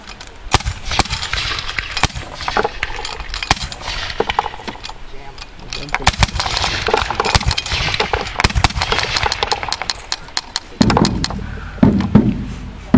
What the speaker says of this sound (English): that is the basic firing action of the Gatling gun